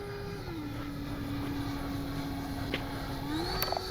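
A Kavan Skyfox L-39 RC jet flies overhead with a steady, droning turbine whine whose pitch dips and then rises again, heard at moderate distance with no talking.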